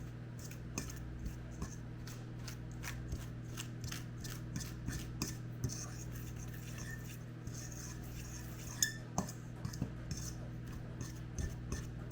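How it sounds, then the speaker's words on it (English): A spoon gives a quick stir to an apple pie cheesecake mixture in a bowl, leaving a run of faint, scattered clicks and scrapes over a steady low hum, with no talk. "I'm going to give this a quick little stir"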